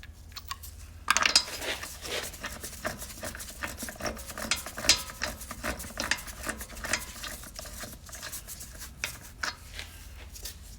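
A ratchet tightens the sway bar link bolts on a Volkswagen Passat, giving rapid, irregular clicking bursts close up over a steady faint background, with no one talking.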